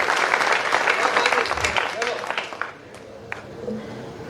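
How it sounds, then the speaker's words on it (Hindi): Hearty applause from the audience at an all-India poets' gathering in Alot, loud and dense at first, then thinning to scattered claps as a voice speaks over the fading end. "एक बार जोरदार ताली उस सीमा के सम्मान के लिए।"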